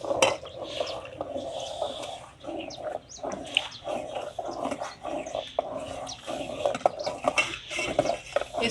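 A spoon stirs and scrapes a mixture of packet ingredients in a metal pot, giving repeated clinks and scrapes up close, while a dog barks and birds chirp in the background.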